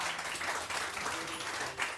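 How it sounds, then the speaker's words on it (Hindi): Applause from a studio audience greets Tahreem on a morning television show, a brief, steady wash of clapping at moderate volume throughout. "बहुत सारी तालियां तहरीम को"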